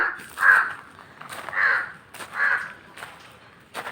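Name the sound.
crows cawing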